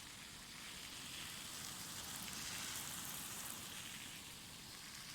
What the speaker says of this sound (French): Voilà, j'arrose un bon coup.